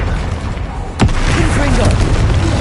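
A single loud blast from a Confringo or Bombarda explosion spell in Hogwarts Legacy, a sudden boom over a dense, rumbling game soundscape.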